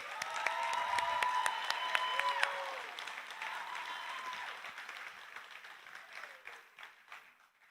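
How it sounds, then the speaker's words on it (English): Graduation ceremony crowd at an academy gives a sustained round of clapping, fairly faint and distant, tapering off at the end. "let's give them one more round of applause"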